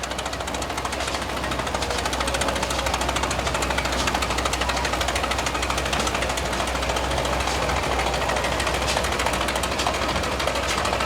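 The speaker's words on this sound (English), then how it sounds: "Here's the big Ford tractor." A big Ford tractor engine runs steadily nearby at a pioneer village parade in Minnesota, a loud, continuous rhythmic chugging with a knocking edge and no voices.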